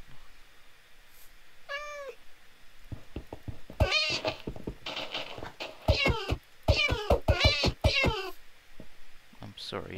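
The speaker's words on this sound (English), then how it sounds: "Oh, a cat." A cat in the video game Minecraft meows several times, starting with a single rising mew and followed by a quick run of clear, close meows.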